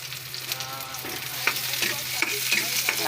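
Vegetables sauté in a hot pan for ginisang gulay, a steady close sizzle with repeated stirring scrapes and clinks of the utensil against the pan throughout.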